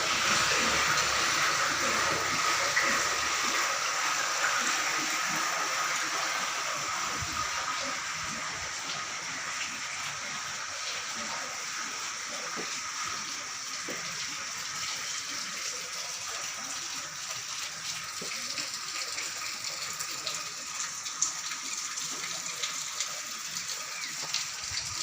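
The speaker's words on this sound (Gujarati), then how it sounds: "દેખી જો આ પાણી ગમે એટલું કાળ પડે તો બંધ નથી થતું" Water pours steadily over the Doneshwar Mahadev shrine as a continuous abhishek beside the Masudari river, a constant rushing wash that holds level from start to finish with no breaks.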